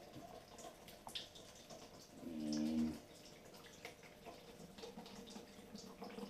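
Wort trickling out of a home-brew mash tun during sparging, a faint quiet run of liquid with small drips and a brief louder gush in the middle.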